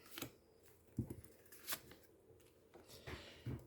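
Tarot cards drawn and handled on a table, a few sharp papery flicks and slaps spaced irregularly, close and fairly quiet.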